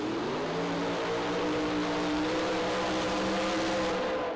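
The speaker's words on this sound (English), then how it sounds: "See, now that was a real burnout." Drag race car at a street car drag racing event in Las Vegas doing a burnout, a loud, steady roaring engine drone with a whine of spinning tires that holds without a break for several seconds, no talk.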